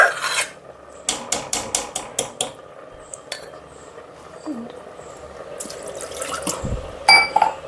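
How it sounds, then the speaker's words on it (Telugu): Water sloshes and splashes in a container, with scraping and clinking of utensils against a metal pot, close by and moderately loud, as a container of boiled toor and moong dal is rinsed into brinjal dal. "కొంచెం వాటర్ వేసి కడిగి వేస్తున్నాను"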